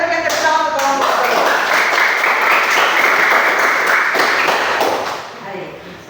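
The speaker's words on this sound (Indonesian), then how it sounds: "mari kita berikan tepuk tangan untuk kelompok B" Classroom students applauding a group, a burst of many hands clapping close and loud, holding steady for several seconds before tapering off, with a voice briefly heard at the start.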